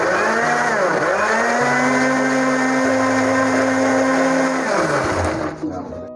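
A kitchen blender whirs loudly and steadily as it purees overnight-soaked figs for a fig milkshake, the motor pitch shifting slightly partway through before spinning down near the end.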